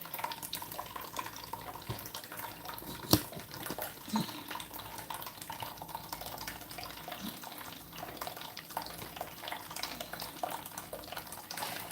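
Cups washed under running water: a continuous tap flow with splashing, drips and occasional clinks of cups and utensils, close and steady throughout.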